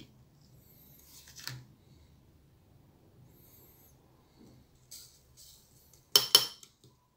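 Sugar spooned into glass jars of onion preserves, heard as a soft scrape and a couple of sharp metallic clinks of a teaspoon against glass, close and quiet with long pauses between.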